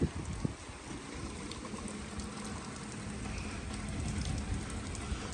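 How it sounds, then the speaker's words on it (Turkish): Steady rain pattering on a surface, a dense continuous hiss with scattered drops, moderately loud and without voices. "Çok şiddetli yağmur geldi."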